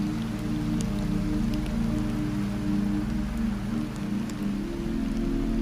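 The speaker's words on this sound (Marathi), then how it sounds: "तर मित्रांनो पाऊस आलेला आहे" Rain falling steadily outdoors in a jungle, a loud, even, close patter and hiss of drops with no voices.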